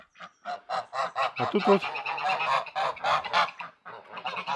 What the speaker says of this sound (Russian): Тут у нас гуси-утки живут под пальмой.